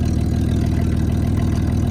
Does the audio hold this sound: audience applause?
no